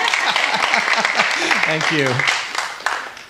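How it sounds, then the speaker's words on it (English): An audience claps through a song-and-story performance, a steady dense wash of applause with a voice speaking briefly over it before the clapping thins out at the end. "you can clap if you want"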